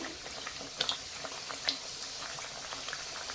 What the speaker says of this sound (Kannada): ಇದರಲ್ಲಿ ಹಾಕ್ತೀನಿ ನೋಡಿ ಎಣ್ಣೆಯಲ್ಲಿ ಫ್ರೈ ಮಾಡೋಣ